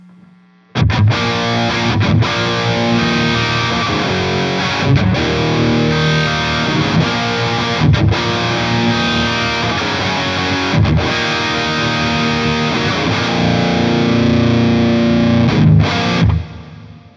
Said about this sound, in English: the dirty sound and see what we get when we have that light bit of hall reverb